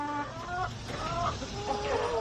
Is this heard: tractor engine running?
no